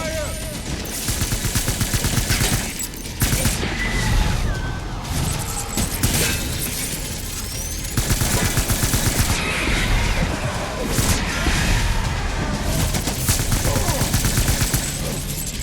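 Dense in-game gunfire during a firefight in Death Stranding Director's Cut, with rapid overlapping bursts of automatic shots and impacts running almost continuously and loud throughout, briefly thinning out around the middle.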